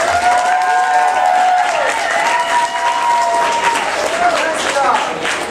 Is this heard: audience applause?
yes